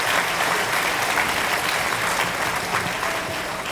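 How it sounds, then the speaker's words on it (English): A high school graduating class at a completion ceremony gives their parents a round of applause, a dense, sustained wash of many hands clapping at even volume throughout. "Class of 2026, why don't you give your parents a round of applause for just being here"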